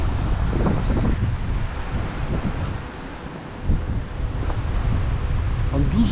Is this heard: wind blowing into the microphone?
yes